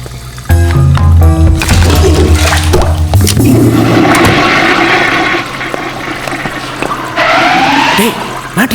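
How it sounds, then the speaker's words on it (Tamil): A loud toilet flush rushes and gurgles for several seconds, with louder bursts and shorter noises at the start, in a Tamil comedy scene. "சட்டியில் போட்டு ஃப்ளஷ் பண்ணடா"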